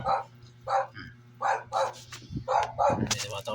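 A dog barks repeatedly in short, loud, close yaps, about six barks at an irregular rhythm, followed by a brief scuffle and a rising whimpering burst at the end.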